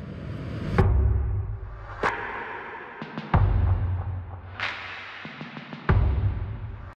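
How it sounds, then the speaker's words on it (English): Isolated percussion from a production mix with the low end rolled off by EQ, heard as a sparse run of sharp hits and swishy transients, dry and close with no voices. "Here's what this sounds like if I were just to solo out all this percussion that we've got going here."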